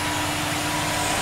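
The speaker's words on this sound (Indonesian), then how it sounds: "Oke, ini mesin bending." Steady mechanical hum of a bending machine in a metal fabrication workshop, a continuous motor drone with broadband noise, moderately loud and unchanging over a short stretch.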